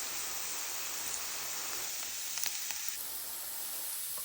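Curry leaves dropped into hot oil with mustard seeds and fennel, a steady bright hiss of sizzling and crackling that holds loud and even from start to finish, with no talking.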